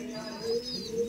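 A pigeon in a loft of Madrasi tournament pigeons gives a soft, close, steady coo that swells twice in quick succession.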